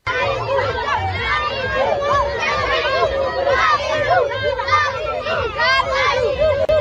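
A dense village crowd surrounds a visiting Chelsea defender's motorcade, with continuous loud chatter, shouting and children's voices close by and moving about throughout.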